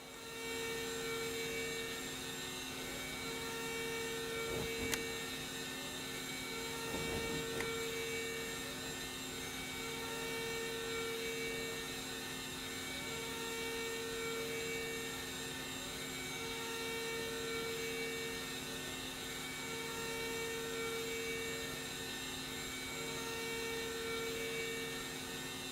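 Steady droning roar of a Beechcraft Baron's twin engines at full throttle in a flight simulator cockpit, a constant loud hum with faint clicks and no speech.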